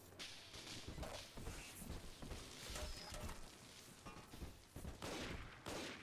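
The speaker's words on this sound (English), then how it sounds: "Somebody is shooting." Gunfire in the BioShock 2 video game, a series of quiet, distant irregular shots and cracks with no talking.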